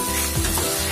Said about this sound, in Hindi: हाई फ्लेम में इसको फ्राई करेंगे।